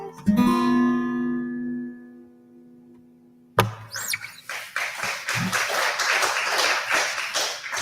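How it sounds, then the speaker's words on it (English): Audience applause at a live Kayenta performance, a dense burst of clapping that starts suddenly after a sustained musical chord fades out and carries on loudly to the end. "I hope you hear the applause at home"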